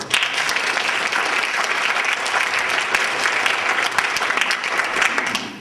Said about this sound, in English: A round of applause for Tom.